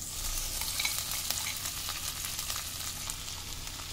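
Potato masala with turmeric sautés in a pan for vada pav, a continuous close frying hiss with light stirring scrapes, steady and unbroken, with no voices.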